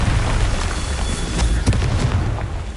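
Confringo blasting spell going off in Hogwarts Legacy, a dense booming rumble with a sharper burst near the middle, thick and sustained throughout.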